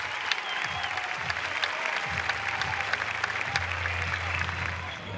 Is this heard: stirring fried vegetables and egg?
no